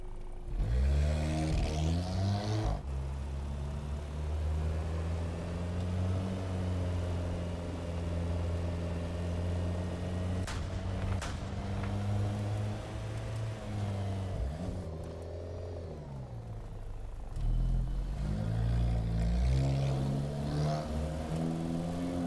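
Armored cars in War Thunder, such as the Fox, Scimitar, AML-90 and Eland, with a car-like engine sound: a continuous low engine drone that revs up and down across the whole stretch, loud and close, with no talk.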